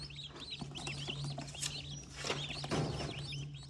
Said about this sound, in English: These are bourbon red turkeys, a heritage breed.